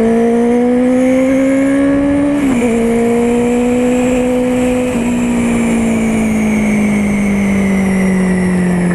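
A Honda CB650R motorcycle engine roars steadily through its exhaust with the diffuser fitted, a deep, full-bodied tone that holds strong and close, its pitch easing slightly across the run with a brief dip partway through.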